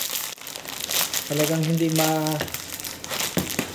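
Sealed plastic sachet of a freebie body lotion being crinkled and strained at as someone tries to tear it open, a steady close rustle running under a person talking.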